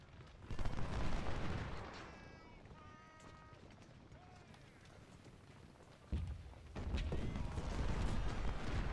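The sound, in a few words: cannon artillery fire in Ultimate General Civil War video game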